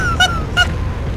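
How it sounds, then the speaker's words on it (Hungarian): Birds in the Company of Heroes video game give two loud, close goose-like honks about half a second apart over a low rumbling game background. "Szállnak a madarak."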